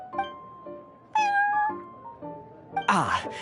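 A cat named Prince from Genshin Impact meows several times in short, high, tonal calls, ending in a louder, rougher yowl, clear and close against a quiet background.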